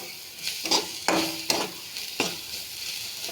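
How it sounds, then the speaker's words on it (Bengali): Carrots and peanuts fry in a pan for upma, a steady sizzle broken by a few sharp scraping stirs of a spatula, close and clear with no talking. "দিয়ে এটাকে ভালো করে আর একটু ভেজে নেব"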